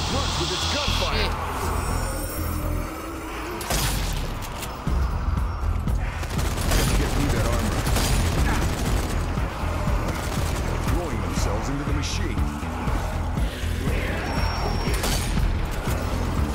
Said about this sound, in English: it's hitting the trucks with its gunfire.